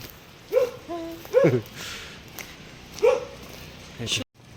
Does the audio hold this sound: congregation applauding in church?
no